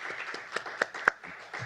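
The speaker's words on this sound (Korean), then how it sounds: "다시 한번 박수 부탁드립니다." Short burst of scattered clapping from a small audience at a Korean peace conference, quick uneven claps close by that fade out within a couple of seconds.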